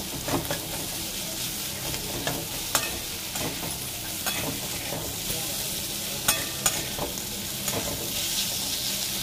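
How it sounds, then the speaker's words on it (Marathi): Cluster beans with green chilli paste sautéing in a pan give a steady, loud sizzle with scattered scraping stir clicks throughout, no talking. "आता हे चांगलं मस्त परतवून घेऊया"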